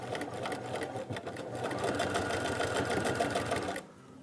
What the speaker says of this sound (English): you're just going to use a basic straight stitch, and you're just going to sew diagonally across